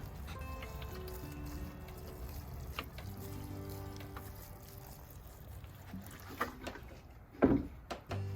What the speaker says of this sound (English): I'm going to go ahead and give another little sprinkle of water